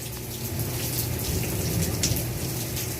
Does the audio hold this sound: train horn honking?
no